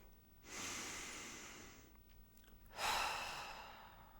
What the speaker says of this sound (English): take a nice deep breath again